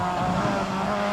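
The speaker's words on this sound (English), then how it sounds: "Mitsubishi Lancer four-wheel drive." A Mitsubishi Lancer four-wheel-drive rally car racing on a tour rally stage, its engine giving a brief, steady loud drone as it passes.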